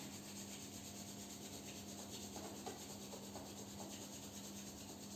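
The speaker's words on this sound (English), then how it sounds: "Rub palms together." Palms rubbed together during a low-intensity yoga class: a soft, steady swishing friction, faint and continuous, in a quiet room.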